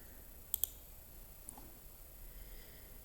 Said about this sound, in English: click Run Workflow